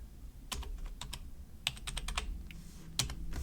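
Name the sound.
typing on a computer keyboard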